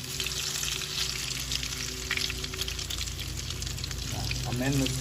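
Croquettes frying in grease in a pan give a steady, close sizzle and crackle throughout, with a brief stirring or shifting sound toward the end.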